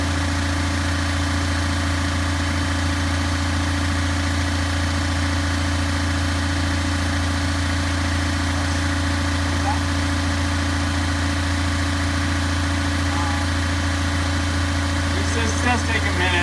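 A HydroVac truck's engine idles steadily while the tank drains, a constant low rumble with a mechanical hum and faint vibration that runs unbroken throughout.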